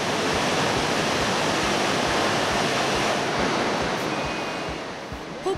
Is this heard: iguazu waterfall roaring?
yes